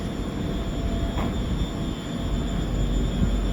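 A train rumbles at the platform of Ayr railway station in a steady, loud, low drone with faint high whine, close by and without talk.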